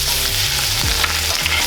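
A steak fillet fries in butter in a pan, a loud continuous sizzle with scraping and shifting as the meat is moved, up close and without any voices.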